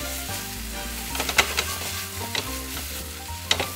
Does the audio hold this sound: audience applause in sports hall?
no